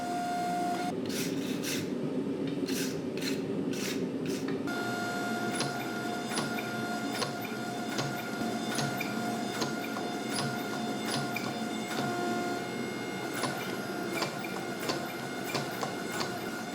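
A hydraulic press working a Damascus steel billet with light presses, a steady mechanical hum and drone with scattered ticks and clicks throughout, no talking.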